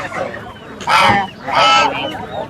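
A domestic goose at a traditional rural village market gives two loud, harsh honks close by, separated by a short pause, over quieter background market noise.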